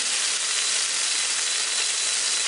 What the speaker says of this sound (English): I'm going to put a 2-pound chuck roast that I have already put salt and pepper on into the pressure cooker